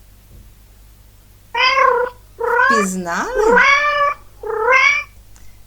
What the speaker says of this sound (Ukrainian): Так, це кішка.